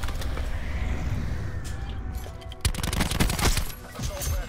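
Gunfire in Call of Duty Black Ops 4 multiplayer sounds as a steady game-audio bed under sharp bursts of rapid shots that grow denser toward the end.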